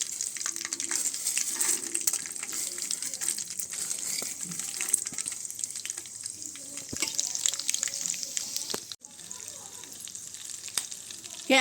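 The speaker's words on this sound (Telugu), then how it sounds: "ఇప్పుడు అలాగే పోపులు వేస్తున్నానండి." Tempering spices and peanuts crackle and hiss in hot oil for lemon rice, a bright steady sizzle with scattered pops and clinks, fading slightly toward the end.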